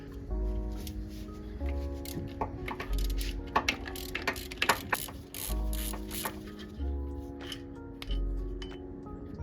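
A ratchet wrench loosens a 14 mm top alternator bolt on a Toyota RAV4 with a 2.4L engine, giving bursts of close, rapid pawl clicks in repeated strokes with short pauses and metallic knocks between them.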